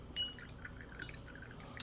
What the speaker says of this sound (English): I've got a little jar of water here that I clean the brush off with, and then I re-wet with clean water